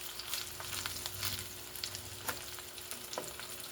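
A smash burger patty sizzles on a hot griddle just after flipping, a steady close crackling hiss with scattered sharp pops and a brief scrape.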